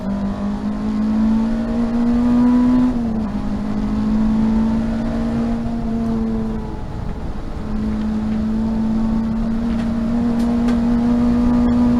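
A race car engine at Thruxton circuit drones loudly and continuously through a chicane, its pitch dipping briefly as it brakes and then climbing again as it accelerates out, heard close from on board.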